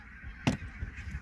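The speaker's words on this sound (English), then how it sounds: "We have some Canada geese." A single loud honk from Canada geese outdoors, sharp and brief against a steady background.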